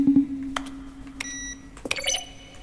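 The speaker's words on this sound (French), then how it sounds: "Chaque son est un mélange de frappe, de clavier, de tonalité, synthétiseur" Electronic beeps and chimes from an office button in The Stanley Parable, layered tones mixing keyboard taps and synthesizer: a sustained low hum, then several short bright bleeps and a cluster of rising tones near the end, with no one talking.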